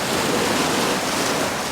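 Ocean waves break steadily against nearby foreground rocks on a coast, a continuous close wash of surf and spray with a light wind rumble and no voices.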